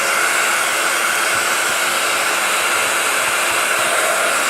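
A heat tool blows steadily and loudly for heat embossing powder on a card, a continuous broadband whoosh like a hair dryer that carries on without a break and with no talking.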